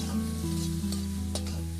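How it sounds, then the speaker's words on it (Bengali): Chopped onion sizzles in a pan while being stirred, an even close frying hiss over a steady low hum, with a couple of faint scrapes in a short stretch. "পেঁয়াজটা একটু হালকা নেড়ে নিয়ে এর উপরে আমরা টমেটো কুচি দিয়ে দেব"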